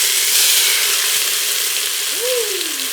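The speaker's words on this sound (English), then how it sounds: "We just want to brown our oxtails before we actually cook them." Oxtails brown in hot avocado oil, giving a loud, steady, close sizzle and hiss that continues through the whole clip, with no talk.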